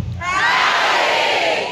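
A crowd at River Crossing Cowboy Church, a cowboy church, raises a loud, close burst of cheering and shouted greetings that swells and holds for about two seconds.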